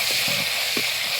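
Chopped garlic and ginger sizzle in hot coconut oil in a pan, a steady close hiss with a few faint stirring knocks underneath.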